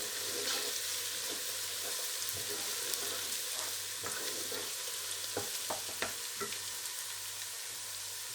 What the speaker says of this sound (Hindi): अदरक लहसुन डाल के इसको 2 मिनट भूनेंगे ताकि जो लहसुन है इसकी अच्छी तरह भून जाए